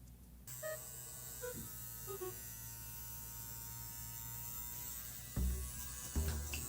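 An electric razor shaves a face with a continuous close buzzing hum that changes slightly in tone as it moves, with a couple of louder bumps near the end.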